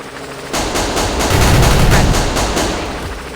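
In the shooter game Execute, rapid automatic gunfire rattles in a loud, steady burst of closely spaced shots that swells in the middle, with no talking over it.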